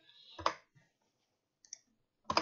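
Sparse keys click on a computer keyboard, with a few isolated taps at close range separated by quiet gaps.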